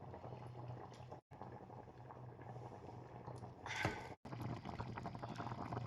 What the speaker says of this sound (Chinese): 咕嘟咕嘟先煮着